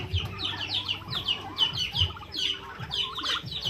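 Rhode Island Red chickens and native turkeys cluck close by in a flock, a busy run of repeated overlapping clucks and short calls throughout.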